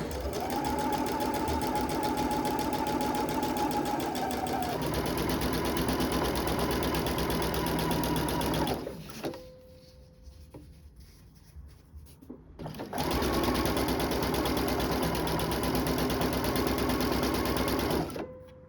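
A sewing machine stitches piping into fabric with a loud, even motor whir. It stops for a few seconds, then resumes at the same steady pace.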